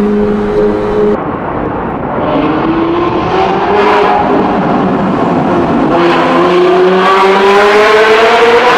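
A Ferrari sports car engine revs loudly, its pitch climbing and falling in several close, powerful sweeps, with no voices over it.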